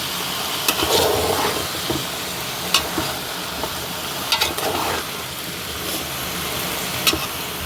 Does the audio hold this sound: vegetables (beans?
yes